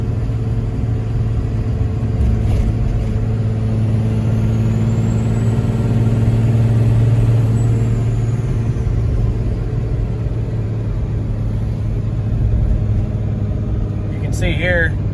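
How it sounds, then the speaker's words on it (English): A Cummins 12-valve diesel with its turbo, fitted in a Ford F350 towing cattle and hay, drones steadily at close range with a deep, constant rumble and a faint turbo whine rising in the middle. "listen to the awesome sound of the turbo and the 12 valve"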